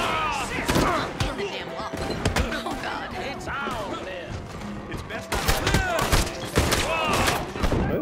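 Gunshots in Red Dead Redemption 2, a flurry of loud cracks and thuds firing in bursts, densest near the start and again after five seconds, mixed with chirpy ambient game sounds.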